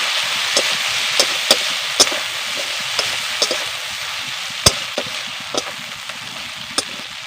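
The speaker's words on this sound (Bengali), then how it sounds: "এবার আমি মশলাকে কষিয়ে নেব" Spice paste (masala) for a hilsa fish curry with ridge gourd is sautéed in a pan: a constant, even sizzle broken by sharp clicks of a spatula against the pan.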